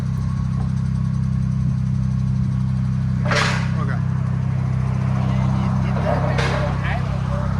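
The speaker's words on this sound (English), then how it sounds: "You can actually hear it idling, you know?" A 2019 Dodge Challenger GT with a 3.6L V6 and Netami resonator idles with a steady, even low hum close by, while people talk over it.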